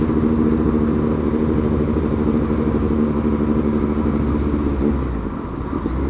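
Group of motorcycles, a Kawasaki Winner X, Yamaha Mio, Suzuki GSX-S750 and Yamaha MT-09, riding together with a steady, close engine drone that eases off slightly near the end.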